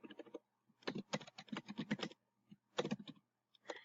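Rapid keystrokes on a computer keyboard, entering a title in bursts of clicky typing separated by short pauses, close and fairly quiet with no talking.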